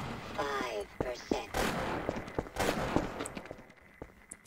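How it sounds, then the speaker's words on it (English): Gunfire in Half-Life: Source gameplay, several sharp, loud shots and bursts in quick irregular succession over a dense game soundscape with a brief voice-like chirp early on. "Someone shooting at me?"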